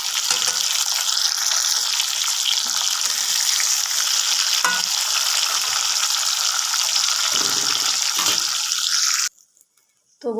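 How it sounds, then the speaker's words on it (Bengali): Pieces of fried hilsa fish get lifted from hot frying oil, a loud continuous hiss and crackle of sizzling with occasional scrapes and clinks, ending suddenly in near silence before a brief sound returns. "আমি এবার মাছ ভাজাটা তুলে নিচ্ছি"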